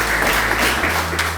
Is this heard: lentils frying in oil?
no